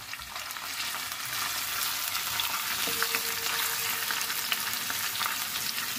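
Crushed garlic, ginger and two whole green chilies frying in oil for mutton kadai, a continuous close sizzle with faint stirring scrapes and a brief steady tone partway through, no talk.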